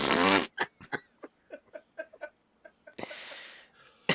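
A vocal imitation of a fart: a loud buzzing raspberry, then a string of short sputtering bursts and a second longer blown buzz, all from one voice.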